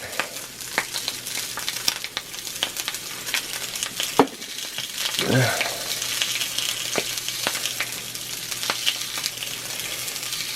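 Sausages sizzling and frying in a cast iron pan, a steady crackling hiss with scattered pops and a brief scrape of stirring midway; close and continuous, no talking.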